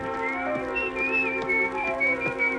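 Someone whistles a wandering tune, clear and close, over a steady background of musical accompaniment.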